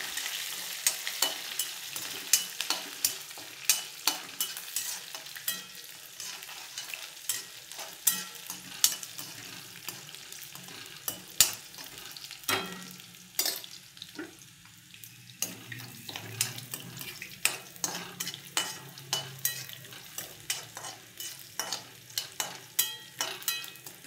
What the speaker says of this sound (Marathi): दाणे तळायचे खमंग म्हणून थोडा जास्त वेळ परतते